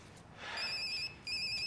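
Electronic phone ringtone in a tense drama scene, a steady high trilling ring that starts after a faint noise, pauses briefly, then resumes, fairly loud and clear with no talk over it.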